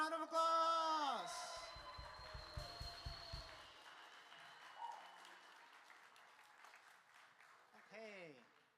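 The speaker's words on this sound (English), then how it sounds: "One more time, round of applause" Faint scattered clapping from an audience after a live band's performance at an evening program, quiet and distant beneath voices and ringing tones.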